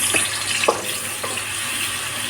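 Garlic hits hot oil and sizzles with a continuous close crackling hiss, a few light scrapes or taps of a utensil along the way.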